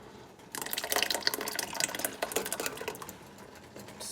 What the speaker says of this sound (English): This is starting to boil again.